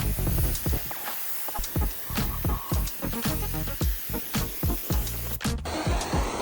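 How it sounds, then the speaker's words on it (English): Acetone degreaser sprays onto motorcycle parts from a BMW K1100LT in short hissing bursts, about a dozen close, loud puffs in a quick irregular rhythm, ending in a brief clatter. "all I'm doing here is spraying the parts with acetone to get the last parts of the grease from them"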